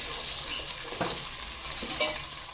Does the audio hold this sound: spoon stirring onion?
yes